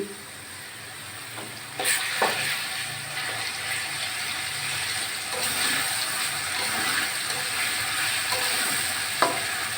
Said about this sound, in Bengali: রসুনটা মশলা দেওয়ার আগে দিলাম বন্ধুরা ভালো একটা ফ্লেভার বেরোচ্ছে রসুনটা আগে ভাজা হয়ে যাবে